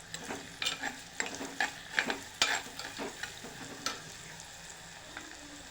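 Curry ingredients frying in a pan, with a run of sharp spoon clinks and scrapes over a constant sizzle that fade toward the end.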